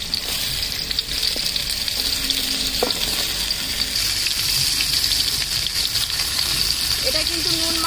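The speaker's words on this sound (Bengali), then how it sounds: "সরষা তেল কড়াইতে দিয়ে দিচ্ছি। আমি ঝিঙেগুলোকে নেড়ে নেব," Ridge gourd pieces are stirred and fried in mustard oil in a wok, giving a loud, close, continuous sizzle with scraping stir sounds scattered throughout.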